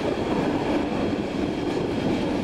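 A Swiss train pulling into Meiringen station before climbing the Brünig Pass, heard as a continuous even rumble of wheels and carriages with no voices.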